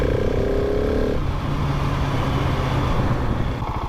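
Husqvarna 701 Supermoto 2023 single-cylinder 690 engine revving, a loud steady, brappy drone whose pitch holds high and then drops back after about a second, continuing as a lower rumble.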